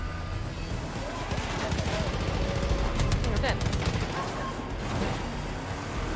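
Rapid bursts of mounted gun fire from Far Cry New Dawn, loud and sustained over several seconds, a dense rattling stream with some engine-like rumble beneath.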